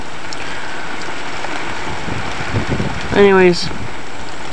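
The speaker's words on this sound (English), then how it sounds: "Rain, rain, wind, more rain." Rain storm with wind gusts outdoors beside a large pine, a steady broadband hiss of rain and gusting wind noise throughout, with a person briefly talking and a short tonal sound near the end.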